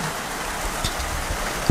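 Rain falling during a hike on the Slieve Bloom Way in Ireland, a steady, close hiss of drops with a few faint taps and a thump at the end.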